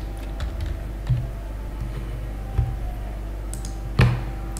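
Keys tapped one by one on a computer keyboard while an IP address is typed, a few soft sparse clicks and thumps spaced about a second apart over a steady low hum, close by with no speech.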